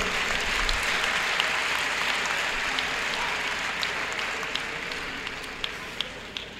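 Audience applause at a university inaugural lecture, a steady wash of clapping from many hands that fills the hall continuously, with a few sharper individual claps standing out near the end.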